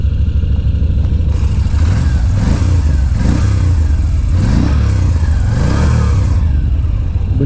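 A Moto Guzzi V7 Stone motorcycle engine revs loudly and steadily up close, its deep rumble swelling in repeated throttle blips over a constant rough idle.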